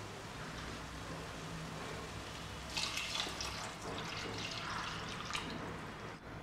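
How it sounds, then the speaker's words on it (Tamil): Water being poured into a pot of methi leaf tamarind curry (venthaya keerai puli kuzhambu): a faint, continuous splashing trickle with slight surges midway. "இப்போ வேணுங்கிற அளவு குழம்புக்கு எவ்வளோ தண்ணி சேர்க்கணுமோ அவ்வளோ தண்ணி சேர்த்துருங்க"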